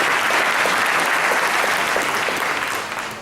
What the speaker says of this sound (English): So a round of applause for your consistency and your determination.